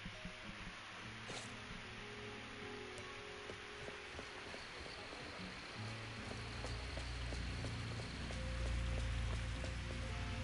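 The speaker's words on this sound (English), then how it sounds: "Of course it's raining." Steady rain falls in the video game NTE, a soft continuous patter of drops on surfaces that grows slightly louder and fuller toward the end, with no voices over it.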